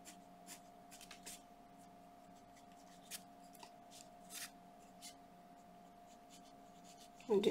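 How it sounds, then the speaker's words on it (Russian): Marker strokes drawing a bright white line on a paper floral sketch, a soft scratchy rhythm of short pen strokes against a steady background hum, ending in a louder rustle. "Здесь можно достаточно такую яркую белую линию нарисовать."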